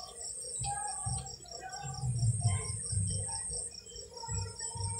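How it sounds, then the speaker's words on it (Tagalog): Birds chirp outdoors on a crossing between Babak and Panacan, with repeated short tweets and calls at a moderate distance over a faint steady background hum. "birds."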